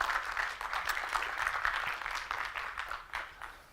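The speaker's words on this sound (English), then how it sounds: "So please give a warm round of applause to Michał." Warm audience applause at an agile software conference welcomes a speaker onto the stage, a steady round of clapping that gradually thins and fades toward the end, with no voices over it.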